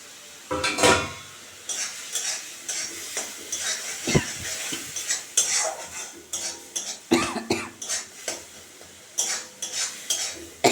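Masala with salt and turmeric stirred and fried in a pan for fish curry, a metal spoon scraping and clinking repeatedly against the pan in an uneven rhythm over a steady soft sizzle, close and fairly loud.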